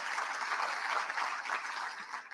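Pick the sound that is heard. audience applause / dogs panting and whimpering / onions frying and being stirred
audience applause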